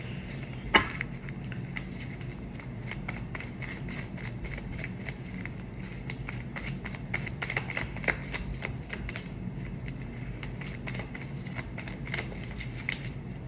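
Tarot cards are shuffled by hand in a steady run of quick, light riffling snaps and clicks that continue throughout at moderate, close level, with no talking.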